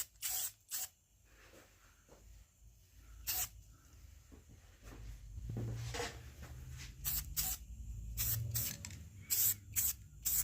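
A spray paint can laying a color coat on a Coleman lantern: short hissing bursts separated by pauses, with a dense cluster of quick sprays toward the end and faint handling noises between.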